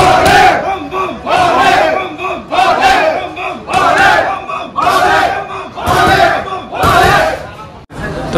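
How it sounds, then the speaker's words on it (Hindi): A large crowd of devotees at the Trimbakeshwar temple gate on Maha Shivaratri roars in loud, rhythmic chanted bursts, close and dense, swelling and dropping about once a second. "बाकी ये भीड़ देख सकते हैं।"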